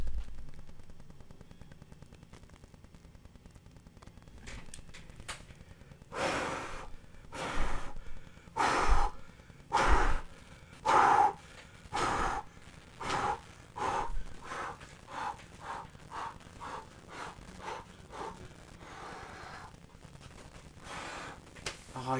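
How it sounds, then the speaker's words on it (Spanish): Deep breaths heave in and out in a regular run of loud, broad whooshes in a mobile game session, starting sparse and then coming quickly one after another. "qué respiración profundo"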